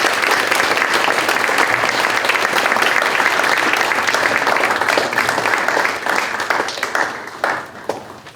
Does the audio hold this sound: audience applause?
yes